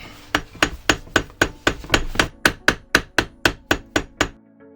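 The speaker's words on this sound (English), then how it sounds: "hammer this down a little bit." Steady hammer blows flattening a Loake shoe during restoration, about fifteen sharp strikes in a regular rhythm, close and loud, with no talking.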